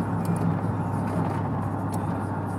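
A 2000 Chevrolet Silverado with a 4.8 engine and 3-inch dual exhausts rumbles loud and close. Its deep drone holds steady at a constant level throughout.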